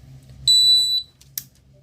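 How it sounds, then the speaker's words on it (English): A home alarm panel beeps after losing AC power, with one loud, steady electronic tone held for about half a second and a short chirp shortly after, over a low hum. "My panel will start beeping because it lost AC power."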